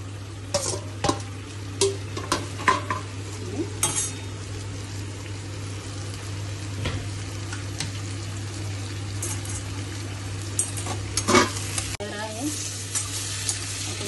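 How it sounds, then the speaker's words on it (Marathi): Spiced masala sizzles and fries in a pan, with a steady low sizzle and repeated scraping stir strokes against the pan at irregular intervals, close but fairly quiet. "छान मसाला परतून झाला"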